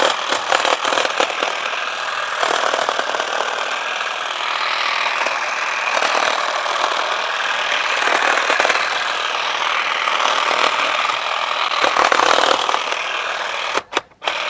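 A cordless Bosch or Einhell hedge trimmer runs loudly and steadily as it cuts thin branches about 1 cm thick, with a brief break near the end.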